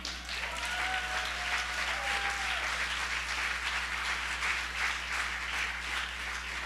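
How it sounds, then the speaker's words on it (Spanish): A church congregation applauding during a sermon, dense continuous clapping at moderate loudness over a steady low hum, with no voices. "Dele un aplauso a Cristo."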